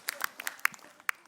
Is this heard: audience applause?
yes